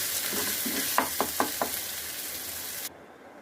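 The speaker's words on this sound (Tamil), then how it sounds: "எல்லாத்தையும் நல்லா வதக்கி விடுங்க." Ground ridge gourd peel paste frying in a pan with a steady sizzle, broken by a few quick utensil taps and stirring scrapes, then the sizzle cuts off abruptly.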